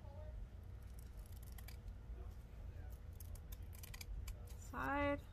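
Scissors snip through old ribbon in a few faint, crisp cuts beneath a steady background hum.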